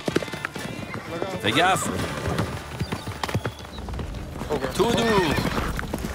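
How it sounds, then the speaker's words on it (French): Horse hooves clip-clop in loose, uneven steps and a horse whinnies twice while a team works to separate a mare from the other horses and herd her into a cage, with people calling out over the scene. "L'équipe doit réussir à séparer la jument des autres chevaux et à la pousser dans la cage sans se faire renverser."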